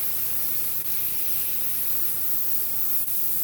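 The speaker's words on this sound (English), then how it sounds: "Oh, we're getting carburetor cleaner." A continuous close hiss of carburetor cleaner sprayed from an aerosol can while cleaning an airbrush, steady and loud with two tiny breaks.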